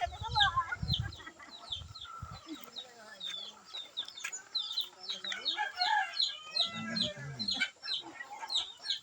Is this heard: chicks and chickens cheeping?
yes